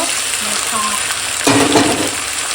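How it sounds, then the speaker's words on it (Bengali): Marinated spiced chicken pieces hit a pan of lightly fried onions with green chillies, sending a loud sizzle that swells sharply partway through and stays strong, with stirring scrapes throughout. "এখন দিয়ে দেবো এই যে মশলা দিয়ে মাখিয়ে রাখা মাংস অংশ"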